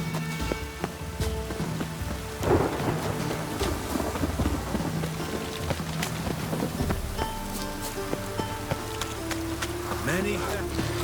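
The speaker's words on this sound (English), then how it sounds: "A storm, damn it." Thunder rumbles and rain pours through a stormy scene in the video game The Witcher 3, with steady rainfall, deep thunder swells and game voices and music layered over the storm.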